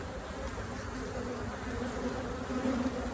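Honey bees buzzing around an open hive frame of workers, a steady dense hum close to the microphone that swells slightly toward the end, with no talk.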